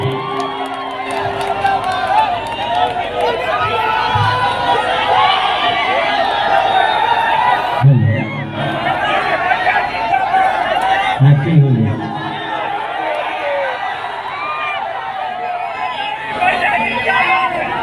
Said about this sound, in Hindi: एक बार बड़े भैया के लिए जोरदार तालियां होनी चाहिए आप लोगों की